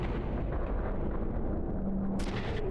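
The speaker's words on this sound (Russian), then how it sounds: "А, нет, это взрыв." A loud, rumbling video game explosion fills the whole clip, deep and sustained with crackling debris, ending in a sharp burst.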